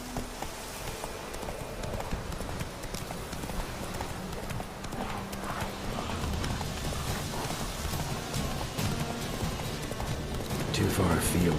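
Roach, a horse in The Witcher 3, gallops in a steady, continuous run of clip-clopping hooves. The hoofbeats sit over a rain-like wash, with voices heard at times.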